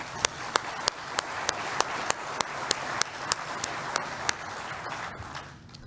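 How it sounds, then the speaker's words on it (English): An audience at an annual business meeting applauds, a steady wash of clapping that lasts several seconds and fades away at the end, with sharp regular knocks sounding above it. "Let's give them all a round of applause."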